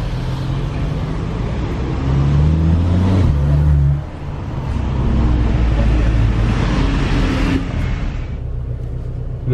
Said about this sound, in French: on prend la voiture, maintenant on va faire la petite balade dans Monaco